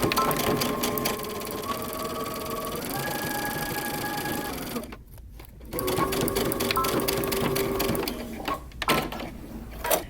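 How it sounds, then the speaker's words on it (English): A home sewing machine stitches a seam on a moto jacket made from Simplicity pattern 8174, running steadily with a whirring motor hum and rapid needle clatter. It pauses briefly midway, then starts up again and continues close and loud, with no talking. "Now we're going to stitch using 5/8 of an inch seam allowance."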